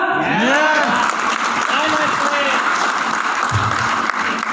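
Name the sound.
audience applause at a training session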